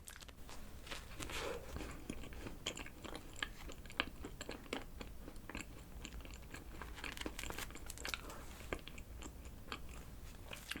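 Someone eating a Yonsei chocolate cream bread from a CU convenience store, with soft close bites and chewing, light crinkling of a wrapper and small crunchy clicks scattered through a quiet room.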